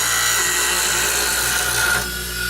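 A woodturning gouge cuts into a carrot wood vase spinning on a lathe, producing a continuous high, rasping whine with a steady motor hum beneath. The sound is close and loud, easing slightly near the end.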